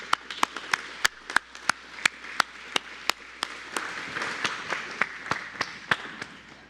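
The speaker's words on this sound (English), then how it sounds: "Let's clap again." Mourners at a celebration of life clap together, a sparse, loose mix of distinct sharp claps from a small gathering rather than a thick ovation, moderately close and continuing for several seconds.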